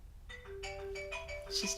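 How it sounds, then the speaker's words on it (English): A mobile phone ringtone plays as a melodic electronic tune of steady sustained notes, moderately loud for a couple of seconds in a quiet room. "It takes a while for the phone to stop ringing."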